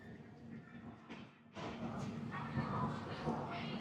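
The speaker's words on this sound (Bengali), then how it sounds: "ট্রেন ঢুকছে কৃষ্ণনগর সিটি জাংশন।" A passenger train pulls into Krishnanagar City Junction station, heard from on board as a steady rumble of rolling wheels and carriage noise that swells louder partway through.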